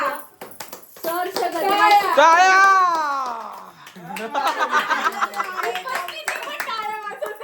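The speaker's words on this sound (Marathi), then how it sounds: "टाळ्या." Family members clapping at a child's birthday celebration at home as the grandmother arrives, quick hand claps mixed with excited children's voices, laughter and singing-like calls, close and lively.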